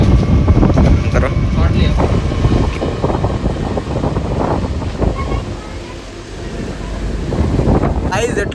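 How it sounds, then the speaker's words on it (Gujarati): Sudden strong storm wind buffets the microphone in heavy, rumbling gusts near a school building whose roof sheeting was torn off, constant and loud throughout. "એટલો બધો પવન આવતો છે ને યાર"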